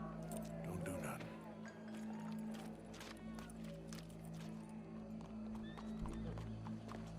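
Horses in the open-world western game Red Dead Redemption 2 clip-clop at a steady trot with a whinny near the start, mixed with game ambience and voices talking over them.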